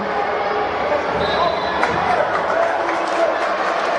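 Spectators at a school basketball game applauding and murmuring, a continuous crowd wash with scattered claps and court noise, commentator speech running over it.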